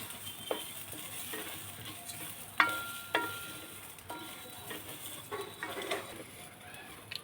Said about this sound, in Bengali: তিনটে গরম মশলার ফল দিলাম এলাচ ভেজে নিচ্ছি